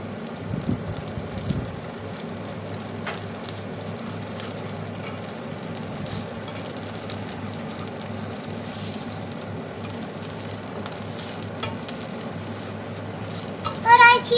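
Fried rice with chili flakes is stir-fried in a wok, making a continuous low sizzle with scattered scraping and stirring ticks, fairly quiet and steady throughout, with a brief louder clatter at the very end.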